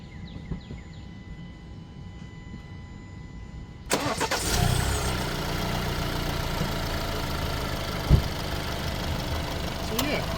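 An Alfa Romeo Stelvio's 2-liter turbo engine cranks and catches, then settles into a steady, fairly loud idle that continues with a single brief knock partway through.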